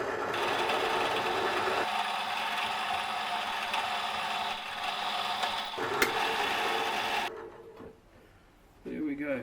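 A dividing head setup drills the final hole in a fraction plate, a steady close mechanical whir and grind of the drill running for several seconds, then cutting off and winding down.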